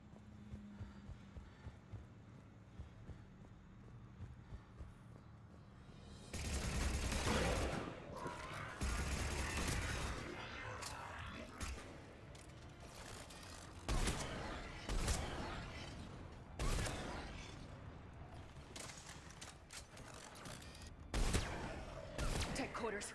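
Gunfire in Mass Effect Legendary Edition comes in loud bursts of fusillade and machine-gun shots that start abruptly after a quiet opening, then repeat in sharp clusters over a steady hum, with voices talking in between.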